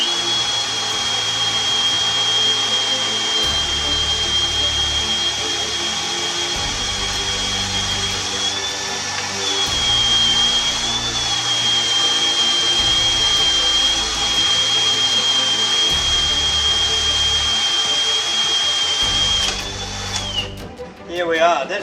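A Drillmate drill boring a 16mm hole through 420 MPa high-tensile steel plate, a steady loud whining motor drone with a high tone that holds throughout and lower pulsing grinding beneath, winding down near the end.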